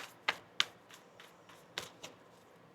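A deck of tarot cards being shuffled during a reading, crisp riffling bursts at uneven intervals, close and moderately loud, with no voices.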